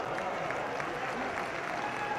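Audience applause at a political speech in India: a dense, steady wash of clapping from a large crowd, loud and continuous throughout with no voices above it.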